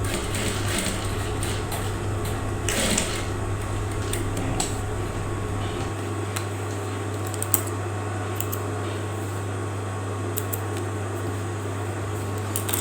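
An industrial sewing machine stitches a hoodie pocket, its steady motor hum running close and continuous through the whole stretch with light mechanical ticks and small clatters layered on top, then the low drone settles after the first half.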